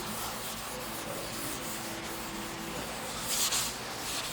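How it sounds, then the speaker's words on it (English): Steady, soft abrasive rubbing as light overspray is sanded off fresh paint on a 1963 Chevy II Nova, continuous and close with a slight rise toward the end. "That sound is just that light little bit of overspray from the area that I worked on."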